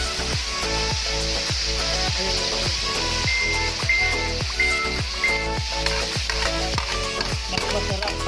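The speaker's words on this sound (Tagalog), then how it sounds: "igisa natin ang" Onions sautéing in a pan as the base for buttered garlic shrimp, giving a steady, close sizzle and hiss under loud rhythmic background music with a regular beat.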